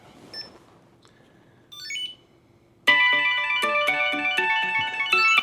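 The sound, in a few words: phone ringing, triggered by Chipolo wallet tracker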